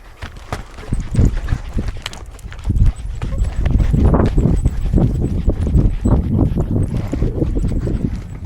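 Horse hooves clop on hard ground in an uneven walking rhythm, close and loud, with a few shuffling steps between, as a brown horse is led around on a rope.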